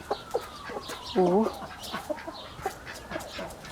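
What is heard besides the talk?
rooster crowing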